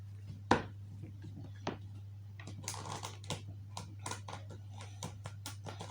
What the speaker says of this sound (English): There's something about the sound of tarot cards.